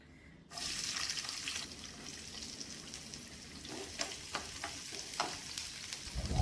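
Sliced onion drops into a hot pan for chutney, setting off a sudden steady sizzle after a brief hush, with light stirring clicks growing more frequent toward the end.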